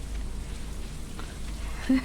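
Rainfall in the Stardew Valley farming game gives a soft, steady hiss with low ambient music underneath, ending on a brief bright chime.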